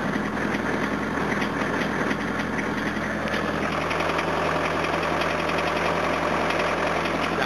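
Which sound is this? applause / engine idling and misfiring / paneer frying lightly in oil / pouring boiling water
engine idling and misfiring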